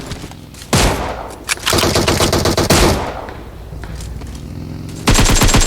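Automatic gunfire in a first-person shooter video game, loud rapid bursts of machine-gun fire close up, with a sustained volley in the middle and another burst at the end.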